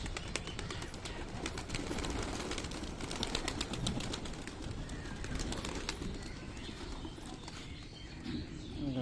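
Rain-wet pigeons and their young in a loft make soft coos, mixed with a busy patter of clicks, taps and wing flutters that continues close by.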